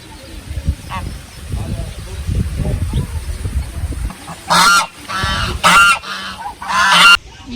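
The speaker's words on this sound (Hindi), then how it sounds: "वो देखें पीछे बत्तखें ही बत्तखें।" Loud honking bursts from a flock of farm waterfowl at a strawberry farm in Taif, Saudi Arabia, several close calls in quick succession with a person talking beneath and between them.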